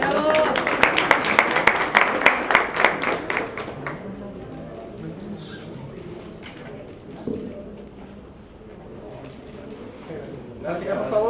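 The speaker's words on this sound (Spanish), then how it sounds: "Un aplauso a Madeline." At a panel discussion on local government transparency, an audience claps for Madeline in a loud burst of applause lasting a few seconds, then fades into quiet room noise with scattered sounds and faint talk.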